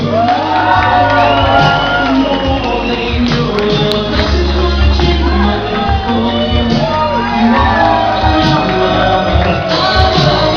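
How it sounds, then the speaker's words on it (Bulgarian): Wedding guests in a loud crowd shouting, whooping and cheering, with dense overlapping voices and music underneath throughout. "Аплодисменти отново за папи и за Николай."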